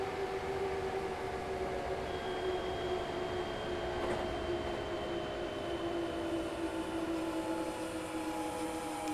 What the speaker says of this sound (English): It's probably because there's a train coming through Hampton Park.